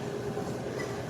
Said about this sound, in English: Oh, watching the trains.